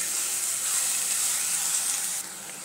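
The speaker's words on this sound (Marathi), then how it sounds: "मीठ आपण कांद्यातच घालूया, म्हणजे कांदा पटकन भाजला जातो।" Chopped onion fries with salt in a hot pan, giving a steady, loud, close sizzle and hiss that drops a little in level near the end.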